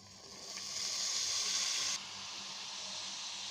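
Prawns with pieces of bitter gourd fry in a pan, giving a steady close sizzle and hiss that swells for about two seconds and then settles to a slightly softer, continuous crackle.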